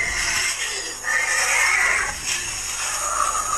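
A possessed woman on a hike at Bukit Jugra imitates a tiger's roar with a drawn-out, strained, growling cry that swells and fades over a few seconds.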